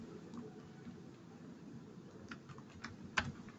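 Keys clatter on a computer keyboard as a search is typed, a soft steady run of taps in a quiet room that ends in one sharper stroke.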